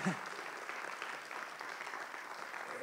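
Audience applause at a festival closing press conference, a faint, even patter of clapping from a modest room of people, with a voice briefly at the start.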